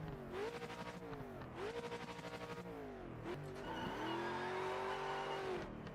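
A Mazda MX-5 race car in the racing game Project Motor Racing revs hard and continuously, its engine pitch climbing through gears with shifts and dips, loud and close with no talking.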